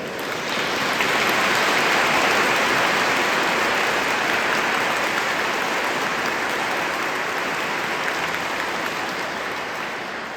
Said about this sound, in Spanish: Aquí hay hombres y mujeres que merecen un aplauso porque están haciendo la voluntad de Dios.